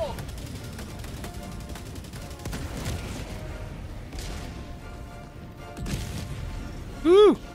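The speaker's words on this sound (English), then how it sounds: "Calling in orbital strike." Airburst orbital strike explosions in Helldivers 2 set off a flurry of rolling blasts and crackling bursts over heavy combat noise. A loud rising electronic tone closes the sequence.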